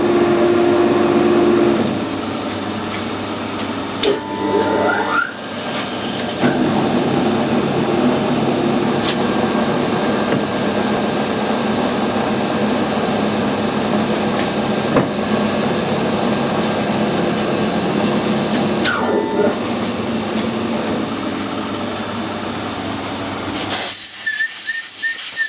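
A lathe or similar machine cutting a 30mm-long thread in a metal drill adapter, giving a steady, loud, continuous mechanical drone with faint whines that runs almost the whole length before cutting off near the end.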